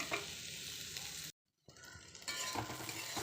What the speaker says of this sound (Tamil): அப்படியே முருகட்டும் நல்லா ஃப்ரை ஆகட்டும்